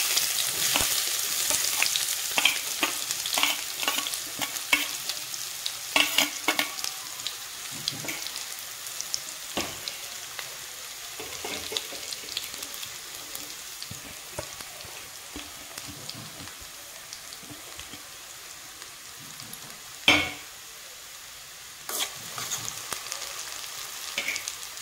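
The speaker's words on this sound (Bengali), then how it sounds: "গোটা জিরে ফোড়নে, আর দিয়ে দেবো কুচনো পেঁয়াজ" Chopped onion frying in a whole cumin tempering for rajma chawal, a continuous close sizzle with scattered sharp crackles and occasional utensil knocks, one louder clack near the end, no voices.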